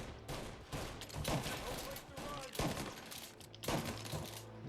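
Rapid bursts of gunfire from guns in Mafia: Definitive Edition crackle in repeated volleys, several sharp shots clustered together over a dense, noisy game soundscape.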